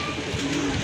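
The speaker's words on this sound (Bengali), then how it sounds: "মাশাল্লাহ টপ ক্লাস একটা নর কবুতর রাজগোল্লার" A single short, soft coo comes from a deep red Lal Rajgolla pigeon, heard alone and close by at a pigeon seller's loft.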